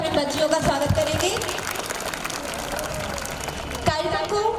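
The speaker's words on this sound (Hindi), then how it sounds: "तो एक बार जोरदार तालियों से अपने बच्चियों का स्वागत करेंगे।" An audience at a school annual function applauds to welcome schoolgirls, a broad burst of clapping filling the middle of the moment, with a voice heard over it at the start and end.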